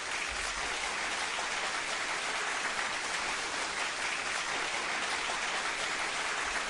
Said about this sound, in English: Let's have a big round of applause for people who support the PBC podcast.